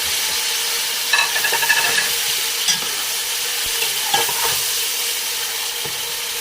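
Chicken with ginger garlic paste fries in hot ghee for biryani, a loud, steady sizzle with a few scraping stirs and clinks standing out over the hiss.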